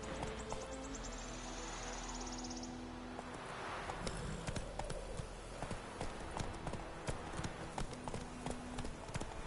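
Horse hooves clip-clop at a steady gallop in the video game The Witcher 3, a continuous rhythmic drumming of hoofbeats with faint ambient game sounds around it.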